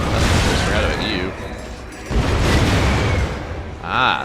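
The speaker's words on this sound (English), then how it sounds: "Ah, those are the sticker grenades." Sticker grenades detonating in a Ratchet & Clank game, a run of booming blasts and bursts over continuous game noise and someone talking, with a sharp, near explosion toward the end.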